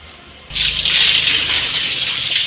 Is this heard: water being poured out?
yes